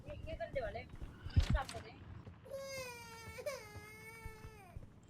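Baby crying in a horror video game, sobbing wails with rising and falling pitch that build into a long sustained cry, with footstep-like thumps and speech mixed in.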